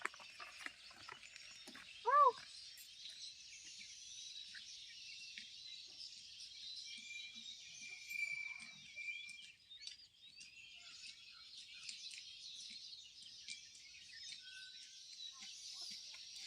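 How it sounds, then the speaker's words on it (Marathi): Sparrows chirp in a quiet village morning, a faint, continuous high twittering with one brief louder call near the start and scattered soft chirps throughout. "एकदम निसर्ग बघा, चिमण्यांचा आवाज."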